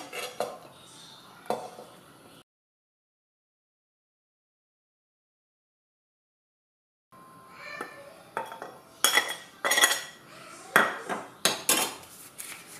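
Beef is stirred in a bowl with onion, spices, garlic and green chilli for a Kerala kappa biriyani marinade: close clinks and scrapes of a utensil, a long silent gap, then a denser burst of sharp clattering taps.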